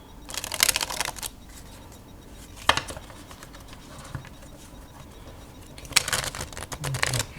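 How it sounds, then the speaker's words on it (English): Two bursts of rapid riffling from a deck of Copag or Penguin playing cards being shuffled, one near the start and one near the end, with a single sharp tap between them; close and fairly loud. "that was a terrible shuffle"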